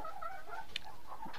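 Young chickens, some of them sick and lame, give brief soft clucks and a small squawk, close by and fairly faint over steady background noise.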